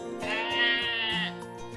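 A single goat bleats loudly and close by in one drawn-out, wavering cry lasting just over a second, with no other sounds around it.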